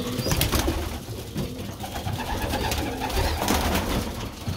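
Pigeons coo repeatedly inside a pigeon loft, their low, soft, rolling calls close and steady, with some rustling and ambient clatter around them and no talking.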